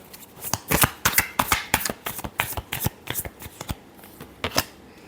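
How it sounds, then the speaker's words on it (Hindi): Tarot cards are shuffled by hand in a quick series of crisp riffling bursts and slaps, about a dozen close, sharp flurries in an uneven rhythm with no talking. "चलिए देखते हैं। Last shuffle."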